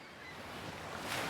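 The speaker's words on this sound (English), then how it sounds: "The mere sight and sound of the waves can help increase blood flow" Surf washes onto a Southern California beach in a soft, continuous hiss of breaking water that builds slightly toward the end, heard alone and at a moderate distance.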